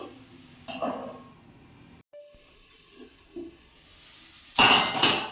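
A lid clinks onto a cooking pot of simmering paneer methi curry, with a few metallic knocks and clatters over a faint steamy hiss, ending in a louder bright clang near the end.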